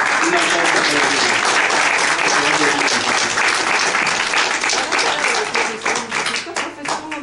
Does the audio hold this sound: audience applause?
yes